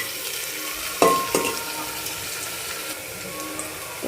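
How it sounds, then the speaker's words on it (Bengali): Onions frying in a pan for a Bengali tiffin recipe, giving a soft steady sizzle with a couple of sharp stirring clatters near the start and no talking. "তো পেঁয়াজগুলো একটু লাল লাল করে ভেজে নেব"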